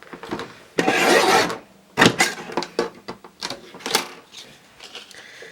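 Cardstock sheet being cut for cards with a paper trimmer, a long rasping slide of the blade followed by several shorter scraping strokes and clicks, close and fairly loud, without speech.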